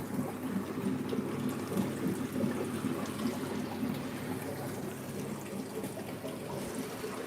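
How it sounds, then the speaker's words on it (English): Water drains steadily from a fish tank in a fishroom, a continuous close gurgling and trickling wash that holds at an even level throughout. "Let's get this one draining as well"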